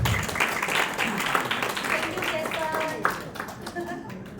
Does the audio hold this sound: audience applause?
yes